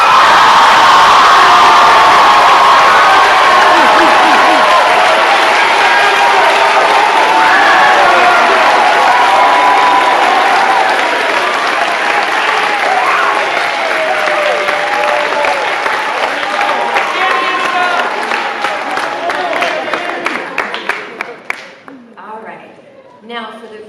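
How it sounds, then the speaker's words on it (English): A large audience at a school closing convocation claps and cheers loudly and continuously, the roar thinning out toward the end into scattered claps. "Big cheer!"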